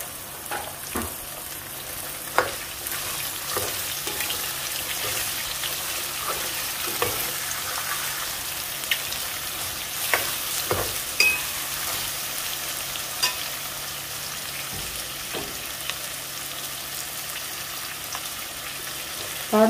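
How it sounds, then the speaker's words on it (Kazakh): Onions sizzle steadily in a hot pan as they fry for a horse meat kuyrdak, with occasional sharp clicks of stirring and no talking. "Және де жуанын саламыз. Бұны да жақсылап қуырамын."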